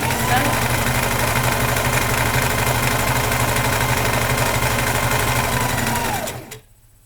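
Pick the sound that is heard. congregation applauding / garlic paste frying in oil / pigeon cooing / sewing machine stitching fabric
sewing machine stitching fabric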